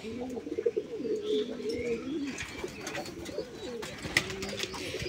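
A large flock of pigeons kept in cages coos together, overlapping low throaty calls continuing steadily and fairly softly, with a few faint chirps and rustles.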